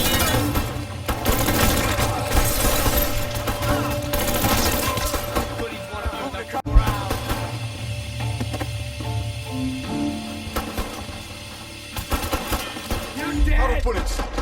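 Gunfire in the video game Mafia III: rapid bursts of automatic shots and repeated cracks in a dense, continuous firefight, with shouting voices over the shooting.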